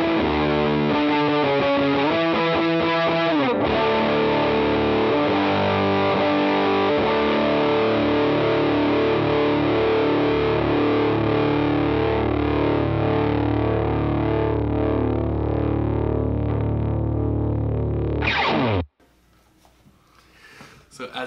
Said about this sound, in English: Now, let's kick on that Bender and let's see how it sounds.